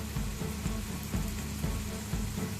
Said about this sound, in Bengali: আমার গ্রেভিটা কিরকম বয়েল আসছে